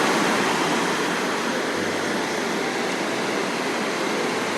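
Loud, continuous roar of heavy surf crashing on the shore at Gwangalli Beach in rain, a dense wash of noise with no pauses and no voices.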